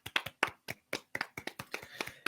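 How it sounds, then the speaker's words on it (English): A small round of applause, a dozen or so distinct claps from just one or two pairs of hands in an irregular rhythm, close and fairly quiet. "Round of applause, everyone."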